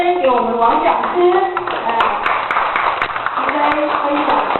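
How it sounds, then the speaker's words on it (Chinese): Scattered hand claps from a gathering at a religious teaching class ring out under ongoing speech, a brief burst of sharp, close claps in the middle while voices continue around it. "现在我们就以热烈的掌声"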